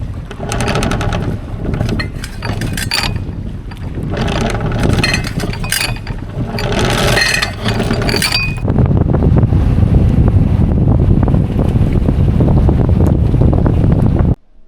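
A boat engine drones steadily while moving to a new anchorage near coral in Fiji, with wind rushing across the microphone, loud and close, before cutting off abruptly at the end.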